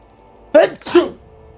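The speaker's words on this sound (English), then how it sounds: "I can fake a sneeze when I need to for a line" A person fakes a sneeze for a line, two sharp, close voiced bursts in quick succession, an intake followed by the explosive sneeze, against near silence.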